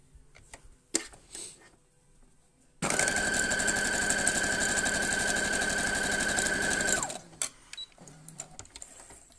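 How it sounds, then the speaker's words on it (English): A sewing machine stitching a patchwork seam runs in one continuous, close, rapid burst of about four seconds, with its whirring motor and fast needle ticking, and quiet handling noises before and after. "I'm going to stitch on that line again"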